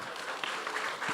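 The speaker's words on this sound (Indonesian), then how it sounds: "Boleh tepuk tangan untuk Teh Erika." A live audience at a community gathering with a Bandung politician claps steadily, a dense and even wash of hand claps that carries through the whole brief moment with no voices on top.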